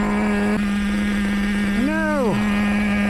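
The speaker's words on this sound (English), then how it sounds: "Open that throttle up just a little bit." An XTM Accelerator nitro RC stadium truck engine idles with a steady buzzing tone, steps in pitch once, then gives one quick rising-and-falling rev before settling back to idle, loud and close.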